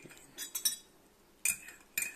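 A spoon stirs a sugar cube in a cup, giving a few light clinks against the side, several spaced taps followed by two sharper chimes.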